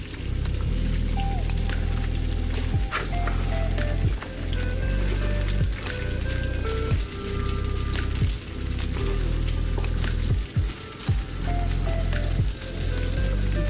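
Cabbage from one big head fries in a pan, a steady close sizzle with crackles and occasional soft thumps and clinks of stirring throughout.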